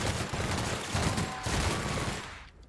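Rapid gunfire from a gun in the video game The Outer Worlds, a dense continuous burst of shots lasting a few seconds before cutting off.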